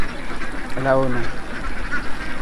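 On a duck egg farm raising eggs for balut, a single nasal duck quack rises close by through a murmur of voices, with the flock's background clatter continuing around it.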